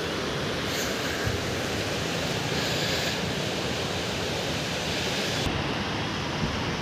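River water from the Musi flows beneath the old Moosarambagh bridge as a steady, broadband rushing wash that stays constant and fairly loud, with no voices.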